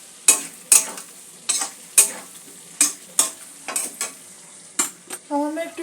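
Potato and cauliflower pieces cooked with spices for a Bengali cauliflower curry, stirred in a pan with a run of sharp scraping strokes and a soft sizzle underneath, close and clear with no talk.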